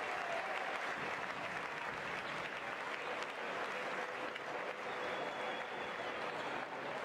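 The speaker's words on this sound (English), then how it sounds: "this passionate crowd here cheering them on" A basketball arena crowd applauds and cheers continuously, a loud, steady wash of clapping and voices from a passionate home audience filling the hall throughout.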